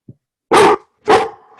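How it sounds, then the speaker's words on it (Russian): A dog gives two loud, sharp barks close by, each about a quarter second long and separated by a short pause, with a faint yip before and after and silence otherwise. "That's your dog, John."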